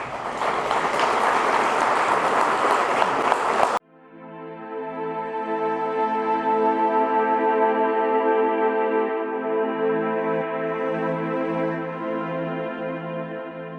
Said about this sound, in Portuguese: Então faça isso, aplauda-os, é a nossa gratidão por todos eles.